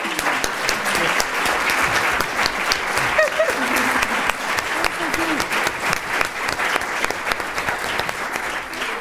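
Steady audience clapping for a panel of speakers at an event, sustained and fairly even, with occasional voices and a faint whoop mixed in.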